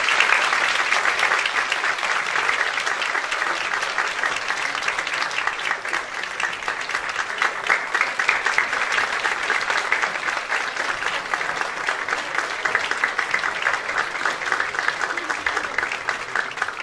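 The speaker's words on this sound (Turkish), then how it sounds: "Alkışlarımızla elbette" Sustained, dense applause from an audience at a Turkish classical music ensemble concert as accompanying instrumentalists take the stage, loud and even throughout with no pause.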